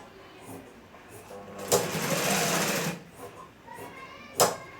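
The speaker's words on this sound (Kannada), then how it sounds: "ಸ್ಟಾರ್ಟಿಂಗ್ ಲಾಕ್ ಮಾಡಿಬಿಟ್ಟು ಸ್ಟಿಚ್ ಮಾಡ್ತಾ ಬರಬೇಕು" A sewing machine stitches a kunchi, a hooded cloth, in one whirring burst of about a second, with faint clicks and speech before and after.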